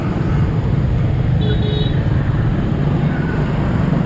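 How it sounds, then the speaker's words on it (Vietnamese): Dense street traffic in Nha Trang near a busy market in the days before Tet, with motorbikes and cars droning steadily and a brief horn toot rising over the continuous roadway noise. "Đường phố quá là nhộn nhịp, chợ rồi mọi người đi chợ cuối năm rất là đông đúc."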